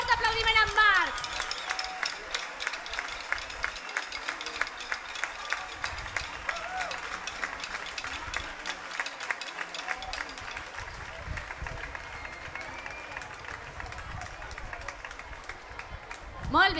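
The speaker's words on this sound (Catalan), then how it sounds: "Un fort aplaudiment amb Marc!" A festival crowd at a Catalan festa major applauds a dancer who has carried a 49-kilo beast figure in the entremesos procession. Dense, steady clapping goes on without a break, with a little crowd babble in it.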